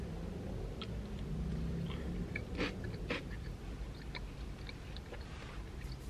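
Someone chewing a Crumbl cookie topped with Reese's Puffs cereal pieces, soft close crunching and mouth sounds over a steady low background hum, with no talking.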